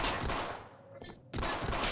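Gunfire in the Half-Life video game, a dense, loud burst of rapid shots that stops briefly and then resumes.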